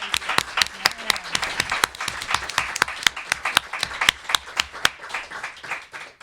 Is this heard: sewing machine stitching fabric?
no